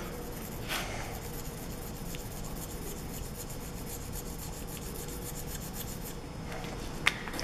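A texter marker is rubbed steadily across a piece of guillotine-cut sheet metal, giving a continuous dry scratching close up that runs without pause, with a couple of sharper taps near the end.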